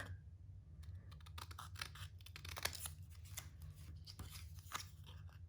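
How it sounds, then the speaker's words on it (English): Scissors snip through card paper for a Christmas box card, a quick close run of crisp cuts and crunches with light paper handling over a low hum. "then we're going to cut from the corner, from the opposite corner to the mark"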